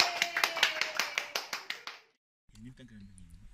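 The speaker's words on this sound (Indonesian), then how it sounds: "So, tanya, tepuk tangan." A small group claps in a quick rhythmic pattern, about a dozen sharp distinct claps close by, then stops abruptly; after a brief silence a voice speaks.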